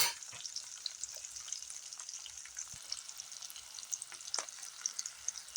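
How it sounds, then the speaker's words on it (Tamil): Curry leaves, garlic, green chillies, fenugreek and a little ginger sautéing in a pan, a soft steady sizzle with light crackles and occasional stirring scrapes, close and fairly quiet. "பச்சை கருவேப்பிலை போட்டேன். நல்லா வதக்கணுங்க."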